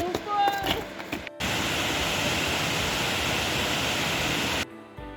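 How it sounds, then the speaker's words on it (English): Steady, loud roar of a waterfall filling the middle of the scene near a lunch spot, preceded by a brief stretch of quieter ambience with faint sounds, then cutting off abruptly near the end. "We're having lunch by the waterfall."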